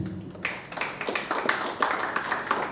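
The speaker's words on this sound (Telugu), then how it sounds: "ఒకసారి గట్టిగా చప్పట్లతో ఎవ్రీవన్ ప్లీజ్" An audience at a 1975 batch medical college reunion in Tirupati claps to welcome a guest onto the stage, a short burst of scattered, uneven hand claps of moderate loudness.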